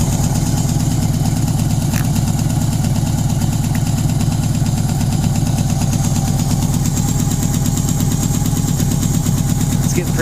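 A 1980 Yamaha XS1100 Special motorcycle engine idles close and loud with a fast, steady chugging pulse, occasional irregular misfire beats breaking through the rhythm.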